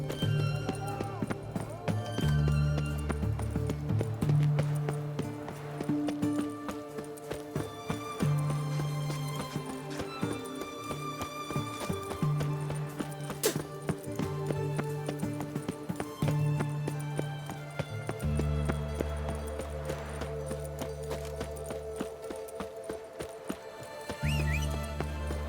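Horse hooves galloping in The Witcher 3 video game, a steady, loud clip-clop running throughout alongside game music, with occasional whinnies and brief speech.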